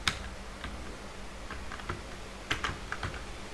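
Clicky keystrokes tap out on a computer keyboard during data entry, coming in irregular bursts with short pauses, close and fairly crisp over low room noise.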